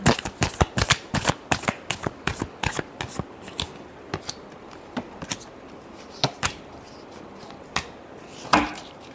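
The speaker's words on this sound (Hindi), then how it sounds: "Last shuffle." Tarot cards being shuffled by hand in a fast run of crisp riffling snaps that thin out into a few scattered flicks, close and dry with no talking.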